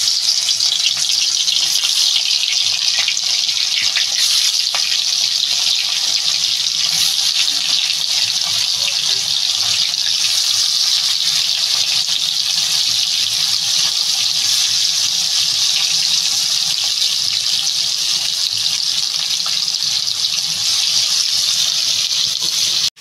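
Fish pieces fry in hot oil for a katla fish and potato curry, making a loud, constant hiss and crackle that lasts more than twenty seconds with no break.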